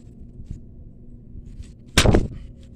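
A firecracker bursts once, loud and close, a sharp crack with a brief ringing tail over quiet room noise.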